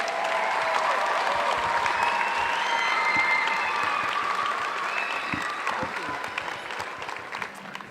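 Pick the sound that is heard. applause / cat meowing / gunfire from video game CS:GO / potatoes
applause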